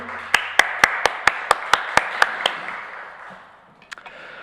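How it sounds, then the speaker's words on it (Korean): Rhythmic clapping at an online Sunday church service: about nine sharp, evenly spaced claps that stop after a couple of seconds, followed by quiet and a couple of faint knocks. "박수하겠습니다."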